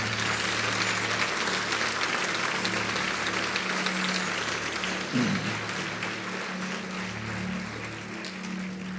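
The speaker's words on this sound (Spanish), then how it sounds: "Dale un aplauso fuerte." Sustained applause from a church congregation, dense and steady for several seconds, with a low hum underneath and a slight dip near the end.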